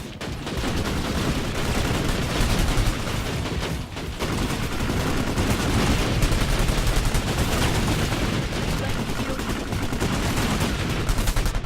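Continuous dense gunfire in the video game Planetside 2, with rapid automatic bursts and overlapping shots forming a loud, unbroken battle din.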